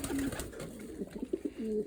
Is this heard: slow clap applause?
no